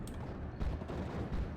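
A Kubelwagen in a WWII strategy video game fires on a Vickers machine-gun team, producing rapid clustered bursts of gunfire over a constant battlefield rumble, fairly quiet overall.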